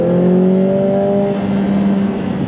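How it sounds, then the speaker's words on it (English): A Lotus Emira sports car engine revs hard under acceleration, a loud steady drone with rising tonal whine heard from inside the cabin, with no talking. "Do you mind if I just punch the gas just a little bit?"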